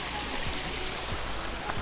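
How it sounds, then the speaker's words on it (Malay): Water from a hill stream near a river campsite, a steady close rush of flowing water with faint trickles and a brief low sound from someone nearby. "Ni air daripada bukit."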